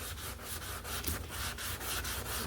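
Steady back-and-forth sanding strokes rasp across a 1966 Ford Mustang car body panel in an even rhythm, close and continuous, with no voices.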